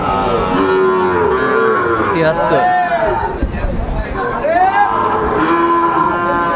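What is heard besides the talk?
cattle mooing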